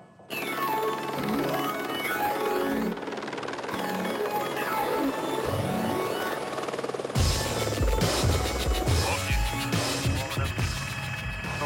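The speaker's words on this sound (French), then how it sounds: "L'hélicoptère va pomper l'eau dans une grande citerne en béton prévue en cas d'incendie." A firefighting helicopter hovers low over a large concrete fire-reserve tank while pumping water, its rotor and turbine roar loud and continuous throughout, growing harsher and more turbulent near the end.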